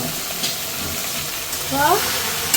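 A spiced curry being fried and stirred in a pan gives off a steady low sizzle with occasional soft stirring scrapes, and a brief voice-like tonal sound rises near the end.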